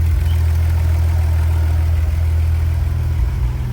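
A VW MK3 GTI VR6 engine with a recent lifter tick and coolant issues idles steadily, giving a close, continuous low rumble with a slight dip near the end.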